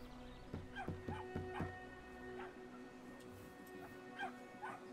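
A dog in the video game Brothers: A Tale of Two Sons gives a handful of soft, quick yips and whimpers, fairly faint over a low steady background.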